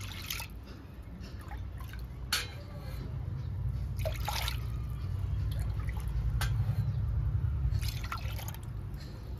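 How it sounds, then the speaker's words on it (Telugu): Water being poured over washed toor dal in a pot, a continuous close trickling and splashing with occasional drips and clinks, steady and moderately quiet throughout. "దాంట్లో 3 గ్లాసులు వాటర్ తీసుకుంటున్నా."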